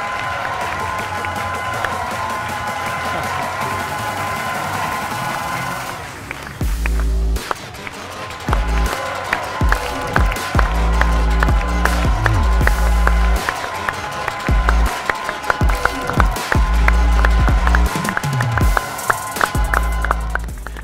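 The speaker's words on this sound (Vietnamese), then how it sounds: "Một tràng vỗ tay cho Phương Dung được không ạ?" Sustained audience applause and cheering at a televised dating show, a dense crowd clapping loudly and steadily with music underneath.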